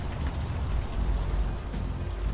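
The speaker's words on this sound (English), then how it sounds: "That rain's a little loud." Steady rainfall sound effect in the video game Unavowed, a dense, continuous hiss with a low rumbling undertone, fairly loud and unbroken throughout.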